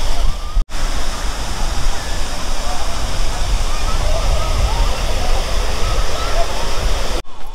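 Pumped water rushes forcefully into the Ram ki Paidi ghat in Ayodhya, a loud, dense, continuous roar of flowing water heard close by, with a voice speaking over it.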